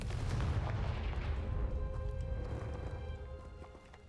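A booming, crackling blast from the Confringo explosion spell in Hogwarts Legacy, loud and sustained with rumbling debris that slowly fades over a few seconds.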